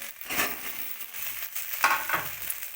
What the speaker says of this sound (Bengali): আলু দেওয়া হয়ে গেছে একটু নাড়বো ভালো করে আমি